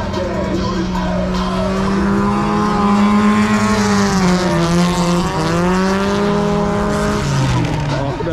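Lada cars drift across an ice track, engines revving and wavering in pitch as they struggle for grip, loud and continuous, with faint voices in the background.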